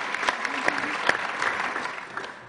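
Council members at an afternoon meeting applaud after an oath of office, a short, moderately soft patter of clapping with a few sharper individual claps and a brief voice underneath.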